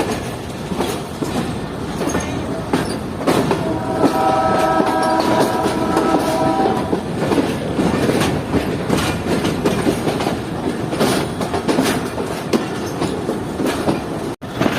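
Mohen Jo Daro passenger train of Pakistan Railways running along Main Line 2 near Kotri Junction, with a steady loud rumble of wheels and carriages, brief horn tones blowing midway, and rhythmic clatter throughout, no voices.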